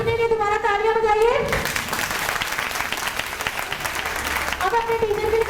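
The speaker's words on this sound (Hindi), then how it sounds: "अपने लिए दोबारा तालियां बजाइए" A room of children and adults in a Montessori education class bursts into applause. The dense clapping swells between voices at the start and end and stays loud and close for about three seconds.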